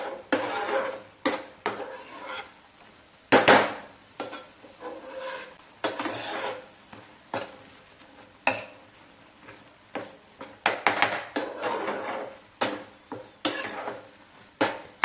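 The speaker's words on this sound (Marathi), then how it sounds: "पुन्हा एकदा एक मिनिटभर अशी मिक्स करून घ्यायचे गॅस हा बारीकच ठेवायचा आहे" Radish chutney being stirred in a pan over a low flame, with irregular scraping and clinking strokes of a spoon against the pan, close and fairly loud, and no talking.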